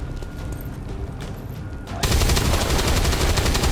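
Sustained gunfire from the video game XCOM 2 bursts in halfway through, a loud dense rattle of rapid shots that follows quieter game ambience.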